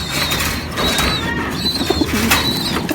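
Pet pigeons coo and flap their wings while being fed, low throaty calls and fluttering close by, alongside high chirps and a busy background, with no talking.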